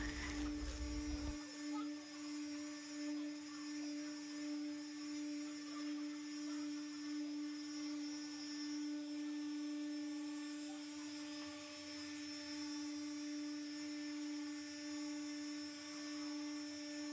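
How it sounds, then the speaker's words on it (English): A polisher on its fast setting buffs high-gloss MDF with a steady, high-pitched electric whine that holds at an even level throughout after a brief louder burst at the start. "Get a blade and gently place it into the middle whilst having the polisher on the fast setting."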